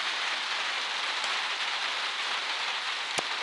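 Steady rain falling around a trail shelter in the Maine wilderness near White Cap Mountain on the Appalachian Trail, a constant close hiss of drops on surfaces with a couple of sharper drop hits.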